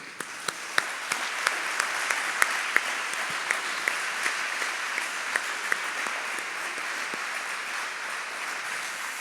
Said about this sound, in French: Nous pouvons vraiment applaudir tous les donateurs de Radio Maria.